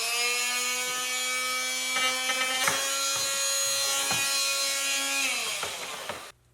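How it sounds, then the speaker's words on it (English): An inexpensive oscillating saw cuts a trench into foam outfitting in a Dagger Contour kayak. Its steady, close, high-pitched buzz is broken by occasional scraping clicks, then it winds down and stops abruptly. "This is the tool that I use. It's just a oscillating saw."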